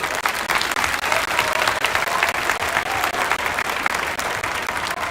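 A large crowd applauds at an outdoor 30 August Victory Day celebration in a Beşiktaş park, honouring a deceased person; steady, dense clapping holds at full strength for the whole stretch with no voices on top.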